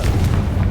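Confringo fire spell striking its target in the Hogwarts Legacy game, a dense, continuous rumbling blast with heavy low-end boom that fills the whole short moment.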